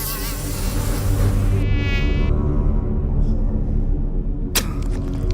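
A high, whining buzz of a mosquito or similar flying insect sounds close and loud. It drops out abruptly partway through, followed by a sharp click.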